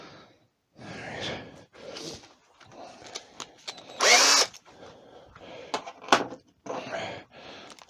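A power drill enlarges the pipe hole in a small turned wooden snowman, one short loud burst of drilling near the middle, with quieter workshop handling noises and bumps before and after.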